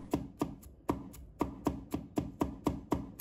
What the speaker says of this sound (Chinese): 接下来我们准备一把大蒜，把它切成片， 再把它切成末